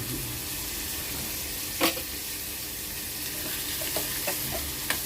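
Sliced onion and three slit green chillies sauté in a pan for a Maharashtrian veg thali, giving a steady, close sizzle with occasional scrapes of the spatula and no voices.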